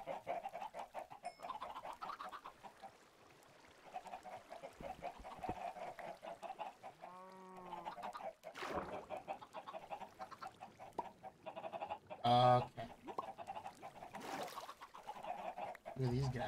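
Chickens in the video game Minecraft cluck and squawk repeatedly in short bursts, with a few louder calls standing out over steady game ambience and background noise.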